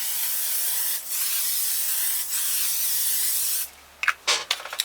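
Makeup setting spray misted onto a face in a long, steady hiss that pauses briefly twice, then stops and gives way to a few short, sharp spritzes at the end, close and alone.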